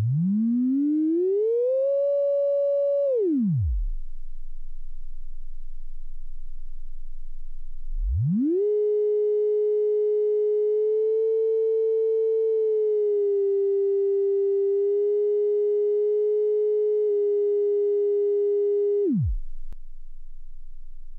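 A Shakmat Banshee Reach modular VCO oscillator sounds a clean, steady synth tone that rises into a short held note, drops out, then returns as a long sustained pitch with slight wavering before cutting off.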